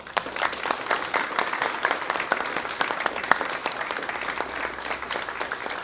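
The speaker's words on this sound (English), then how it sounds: "can we just do one collective applause for all of our retirees?" A crowd applauds steadily, dense clapping from many hands sustained throughout with no break, fairly close and lively.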